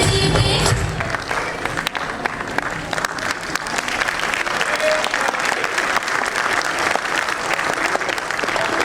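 Sustained audience applause at a children's fancy dress show, dense and loud, continuing steadily for the whole stretch with a few cheers mixed in.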